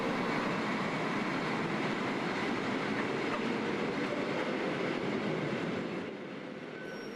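A Swiss train heading to Arosa runs on its rails with a loud, continuous rumble and faint clickety-clack, easing slightly quieter near the end.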